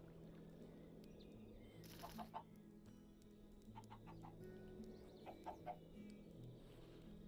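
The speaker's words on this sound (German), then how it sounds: "Ah. Dumme Hühner." Chickens cluck in Minecraft, a few short clucking bursts around two and five seconds over a steady low game ambience and background hum.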